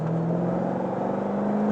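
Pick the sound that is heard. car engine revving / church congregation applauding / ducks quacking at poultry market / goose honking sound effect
car engine revving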